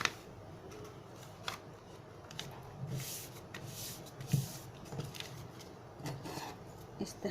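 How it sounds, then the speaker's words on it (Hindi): Scissors snip strips from a sheet of colored paper for a festive candle craft, a series of quiet, irregular close cuts and paper rustles. "इसमें से हम स्ट्रिप्स काट लेते हैं।"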